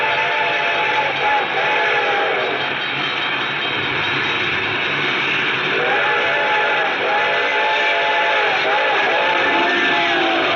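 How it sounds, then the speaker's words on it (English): A train whistle in a radio horror drama wails in long, repeated, wavering tones over a loud, dense, continuous rumble. The whistle rises and falls several times and sounds fairly near, and no one speaks. "I could hear its bell ringing and the cry of its whistle."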